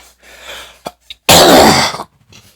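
A single harsh cough bursts out about a second long, preceded by a few faint breathy sounds and followed by quiet, close and alone.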